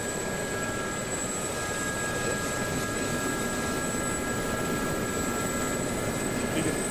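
A helicopter flying in a video game, its engine and rotor making a constant, loud, even drone with a steady whine riding on top, unbroken from start to finish.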